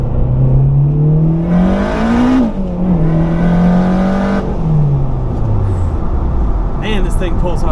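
A turbocharged Acura RSX pulls hard through the gears, heard from inside. Loud engine drone climbs in pitch, drops briefly at a shift, then climbs again before easing off.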